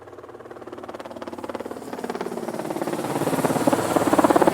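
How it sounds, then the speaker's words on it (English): A helicopter's rotor thuds in a fast, steady beat with engine whine, growing gradually louder as though approaching. "H for helicopter."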